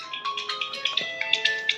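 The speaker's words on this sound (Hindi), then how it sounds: "सुमन का फोन आ गया, आपकी बात कराने की" A mobile phone rings at home with a repeating electronic melody of bright, tinkling tones in a quick steady pulse, fairly close and clear, with no voices.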